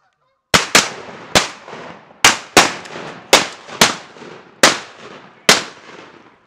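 Nine sharp shotgun blasts crack outdoors during a river duck and goose hunt, in quick irregular volleys, each loud blast followed by a fading echo.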